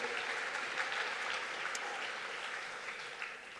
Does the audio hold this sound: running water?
no